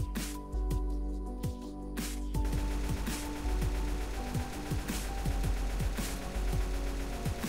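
Assault rifle firing in Left 4 Dead 2, rapid short bursts of gunfire with repeated descending shell-like tones over a loud game background rumble.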